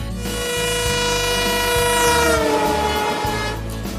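A train running along the rails while its horn sounds loudly and steadily throughout, with a rhythmic low rumble of wheels underneath and no talk.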